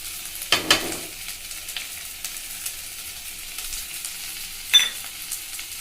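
Tomato with cumin and pepper is sautéed in a pan for goat head curry, giving a soft sizzle with a few scraping stirs near the start and end, close and fairly quiet, with no voices.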